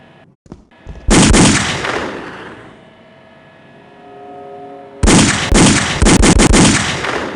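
Gunshots in The X-Files Game during a warehouse raid: a few sharp early pops, then a loud blast with a ringing tail, later a cluster of several rapid close shots.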